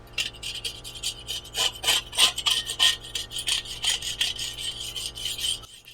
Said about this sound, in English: The razor scraper works well along the outside rim as well.